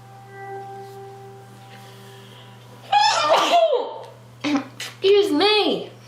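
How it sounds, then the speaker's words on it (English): Two sneezes from an adult indoors, the first loud and drawn out, then a second burst after a short pause, near and clear over a faint steady hum. "Something about this weather this year keeps tickling my nose and giving me the sneezes."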